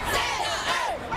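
A large crowd of students shouts and chants at a climate change march in Lower Manhattan, a dense roar of many voices with rising and falling yells, loud and continuous.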